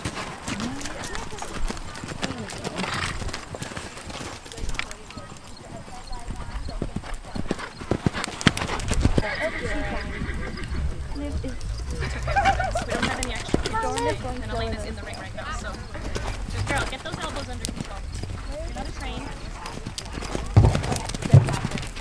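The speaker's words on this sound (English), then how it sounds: "All riders, please canter." Horses cantering during a flat riding class, with steady clip-clop hoofbeats throughout, occasional whinnies and a continuous busy arena background.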